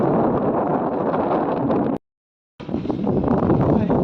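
Strong wind buffets the microphone on a sailboat heading toward Nyborg on a singlehanded sail, a loud, dense rushing roar that cuts out completely for about half a second before returning just as strong.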